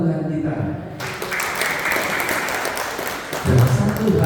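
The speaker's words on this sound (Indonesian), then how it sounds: "Tepuk tangan buat Tuhan kita." A congregation at a prayer meeting breaks into applause that lasts a couple of seconds, a dense wash of clapping with voices speaking before and after it.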